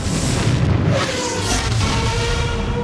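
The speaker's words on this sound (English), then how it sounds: "oh boy, that's a neat explosion" A deep, loud, rumbling explosion for a film special effect in Star Wars Episode I booms and rolls continuously across the whole clip with no talk over it.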